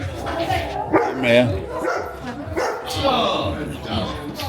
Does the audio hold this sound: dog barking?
yes